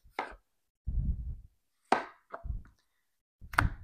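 Potatoes sliced on a cutting board with a very sharp Cutco knife, four or five separate cuts, each a quick crisp slice ending in a dull knock on the board, with short silences between.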